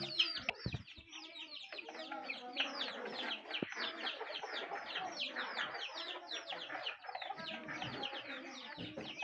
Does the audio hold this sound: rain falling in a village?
no